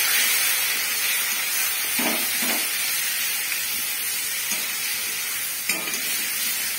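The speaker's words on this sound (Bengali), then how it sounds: "অল্প অল্প জল দিয়ে ভালো করে মশলাটা ভালো করে কষিয়ে নিতে হবে।" Spice masala for a silver carp curry fries with a little water in a pan, making a continuous close hiss and sizzle with a few soft stirring bumps.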